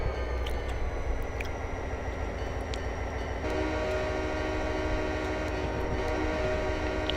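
A steady, loud rumble of an Amtrak passenger train rolling past in the Railworks train simulator game, on the BN Racetrack route, with sustained horn-like tones over the constant rolling noise.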